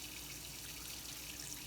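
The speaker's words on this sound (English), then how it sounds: "I just add some water in the can." Water poured into a can while cooking sloppy joes, a brief, steady hiss of running liquid, close and fairly soft, heard alone.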